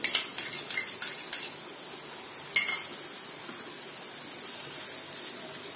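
A spoon clinks and scrapes against a pan as curd is stirred into a soya chunks masala curry over a low flame, with a few sharp metallic taps early on, then a quieter, steady faint background.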